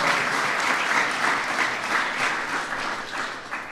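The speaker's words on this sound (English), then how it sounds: "That's worth applauding." Steady applause from an audience during Obama's 2015 speech about his visit to Africa, a dense wash of clapping at moderate level that tapers slightly toward the end.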